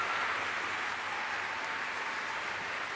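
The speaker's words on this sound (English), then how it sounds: "Let's give him a big round of applause." Audience applause at a retirement ceremony, a steady even wash of clapping from a crowd, moderately quiet and continuous throughout.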